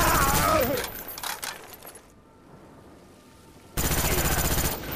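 Video game gunfire in a capture-the-flag match: a dense burst of rapid shots opens the clip and returns loudly near the end, with a quieter stretch in between.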